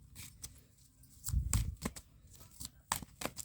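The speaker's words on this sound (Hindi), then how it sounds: "last shuffle" Tarot cards being shuffled in several quick riffling bursts, crisp papery flutters with a fuller flurry midway, close and alone without any talk.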